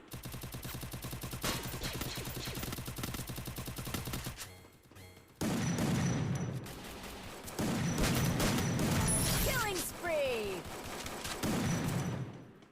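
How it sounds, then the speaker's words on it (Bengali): Gunfire in the Free Fire mobile battle royale game, with rapid automatic bursts and heavier single shots from a long gun and shotgun, dense and loud, with a short lull midway and some game effects layered in. "লম্বা বন্দুক দিয়ে মারি এই আরেকটা আইতাছে"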